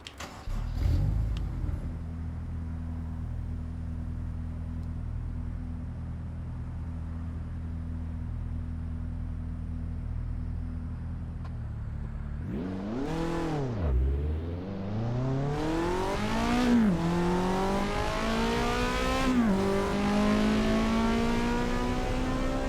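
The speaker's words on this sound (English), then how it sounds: "The engine sound almost gets quieter at high RPMs." Race car engine in the video game Assetto Corsa EVO: a steady idle drone gives way to sharp revving sweeps, then repeated climbs through the gears with rising whine and brief dips at each shift, loud and alone.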